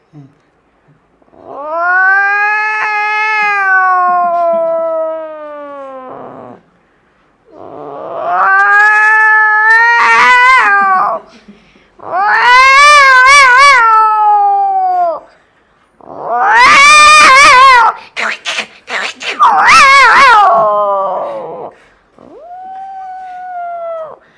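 A man imitates cats with his voice, producing a series of long, loud, drawn-out meows and yowls separated by short pauses, with the last one shorter and softer.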